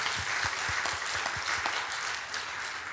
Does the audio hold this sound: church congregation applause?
yes